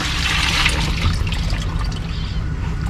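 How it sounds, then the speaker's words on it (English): Water gushes continuously as ash is rinsed out of a bucket, a loud, steady splashing rush with no pauses. "Just give it a rinse."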